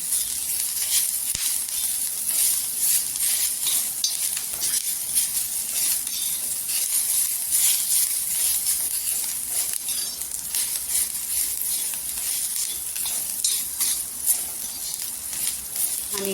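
Masala with green chilli and garlic roasts in a pan with a little oil, giving a soft, continuous sizzle and hiss broken by occasional light clinks and stirring scrapes, heard close with no speech.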